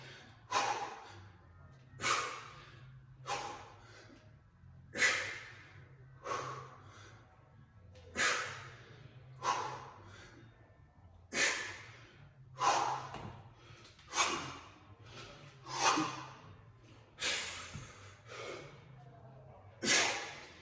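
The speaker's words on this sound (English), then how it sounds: "You can hear me breathing." A man lifting weights breathes heavily through a set of presses, bracing with the Valsalva maneuver: about a dozen sharp, forceful exhales and snorts at a steady rhythm of roughly one every one to two seconds, close and loud.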